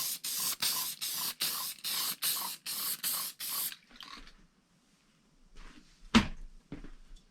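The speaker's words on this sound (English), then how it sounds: "I'm going to go ahead and use my Hornady one-shot case lube, and I'm going to go and spray all my brass down" Hornady One Shot case lube sprayed over new Lapua 6.5 PRC rifle brass: about nine quick, evenly spaced aerosol hisses up close, then softer handling clatter and a sharp knock.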